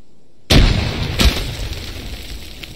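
A single grenade blast during army training bursts abruptly out of silence, a loud sharp boom with a second crack just after, then a rumbling, fading tail.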